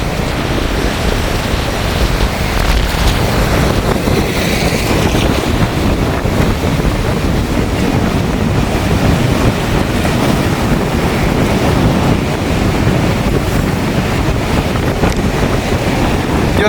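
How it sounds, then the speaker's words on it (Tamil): Rough sea waves crash and roar continuously while strong storm wind buffets the microphone on the coast at Point Pedro, Sri Lanka, a loud, unbroken stormy wash with no voices. "அலையினுடைய ஆக்ரோசம் வந்து பாருங்க"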